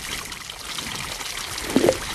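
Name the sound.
water pouring while filling something in the VR game I Am Cat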